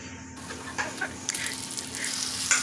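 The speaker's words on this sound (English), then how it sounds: "add it to your heated pan" Garlic, Creole seasoning and black pepper mix with butter and olive oil hits a heated pan, giving a steady soft sizzle with scattered small pops and crackles close by, no talking.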